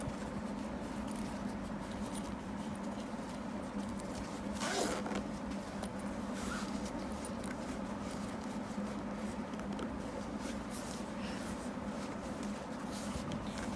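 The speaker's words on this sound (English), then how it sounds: "I'm going to open up the zip to the bottom here" A zipper is slowly opened to the bottom of a handmade crochet bag. Faint scratchy rasps and a few sharper pulls sit over a low steady background hum.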